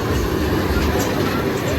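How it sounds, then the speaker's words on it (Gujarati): A small fairground toy train ride rumbles and clatters steadily nearby at a village fair, with a low droning rumble and faint voices in the background. "છુક છુક ગાડી દેખી શકો છો."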